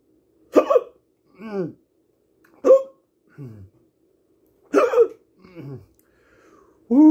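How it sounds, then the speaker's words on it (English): Hiccups after eating the Paqui One Chip Challenge 2021 spicy chip: three sharp, close gulping hiccups, each followed by a shorter voiced catch, spaced about two seconds apart in an otherwise quiet room. "Well, hiccups starting already."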